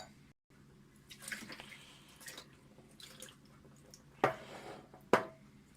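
Deionized water poured from a glass over a 12-inch SkyWatcher 300P Flextube Dobsonian telescope mirror gives soft trickling and splashing, with two sharper splashes near the end, faint and close in a quiet room.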